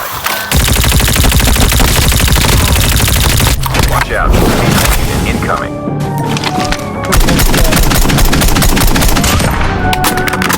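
Loud, rapid automatic gunfire and bursts crackle through a Call of Duty match, with near-constant firing, a few heavy booms and brief lulls, and voices talking over it.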